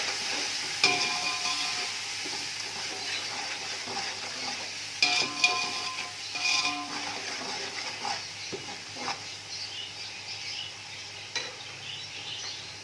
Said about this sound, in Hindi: ये सारे मसाले, नमक, अच्छी तरह से इसे मिक्स करेंगे।